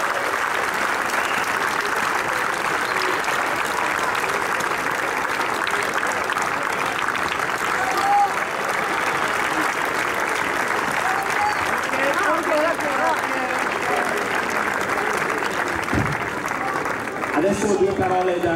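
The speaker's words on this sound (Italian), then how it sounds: "un grande applauso ai due finalisti della Championship di Scacco" Crowd at a tennis Challenger tournament awards ceremony applauds the two finalists, a long, steady wash of clapping at moderate distance that holds evenly throughout, with a brief voice or noise near the end.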